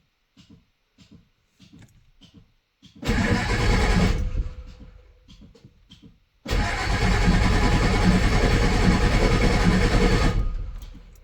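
A Ford 7.3 IDI diesel truck with a new injection pump, injectors and glow plugs cranks in short clicks, catches briefly and dies, then fires again and settles into a loud, steady clattering idle before cutting off.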